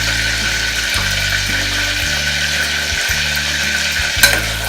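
Chili and onion sizzling in hot oil in a pan for a spicy potato curry, a steady loud frying hiss with a brief clatter of stirring near the end.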